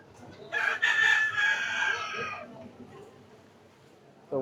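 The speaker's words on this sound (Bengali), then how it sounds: "এই যে ডিম পাড়ে লাল মুরগি আছে এখানে, তারপরে কক মুরগি, পাকিস্তানি মুরগি, সব ধরনের মুরগি পাওয়া যায়।" A rooster crows loudly once, close by, over faint clucking from hens at a poultry shop in a village market; a short burst of another call cuts in at the very end.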